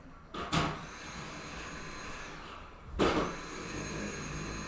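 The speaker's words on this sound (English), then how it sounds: "the noise of someone vacuuming directly outside the door, and it sounds like they're trying to kill the vacuum" A vacuum cleaner runs just outside a door, a steady broadband whooshing drone that holds throughout, broken by two short bumps or knocks near the start and around the three-second mark.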